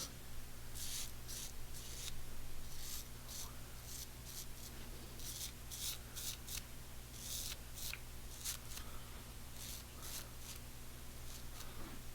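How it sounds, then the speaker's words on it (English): A Japanese razor shaves a beard down from the sideburn, giving faint, close, short scraping strokes in an irregular repeating rhythm over a low steady hum. "I'll use the Japanese razor just to take down the bulk of it"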